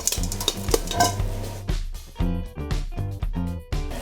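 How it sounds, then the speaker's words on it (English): Low-sodium food is tossed together in a mixing bowl, a series of close, uneven scraping and clattering strokes with brief pauses between them, and no talking. "We're just going to toss this together a little bit."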